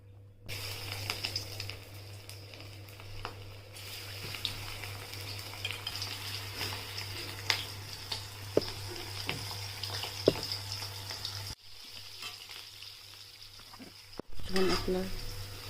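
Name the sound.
cauliflower manchurian pieces deep frying in oil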